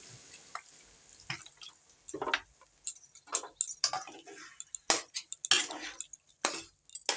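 A little water is poured into a pan of fried taro greens cooking for sesame-poppy seed paste, giving close, irregular splashes, drips and light metallic clinks that grow busier toward the end.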